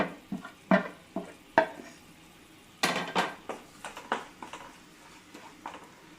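Roasted coconut being stirred in a pan, a spoon scraping and clinking against the metal in irregular close strokes with a faint background hiss.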